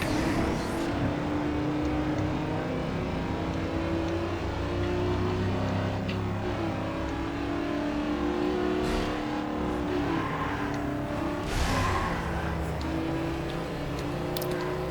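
Race car engines in a Need for Speed Underground 2 circuit race, a steady loud roar with shifting revs and occasional sharp transients, heard without voices.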